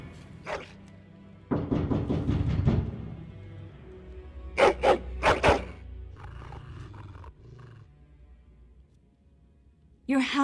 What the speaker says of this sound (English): Your hound is making so much noise. He seems so angry.